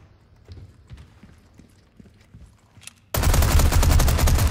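Gunfire in the video game Resident Evil 4 breaks in as a sudden, loud, sustained volley of shots after a quiet stretch of faint footsteps and small knocks.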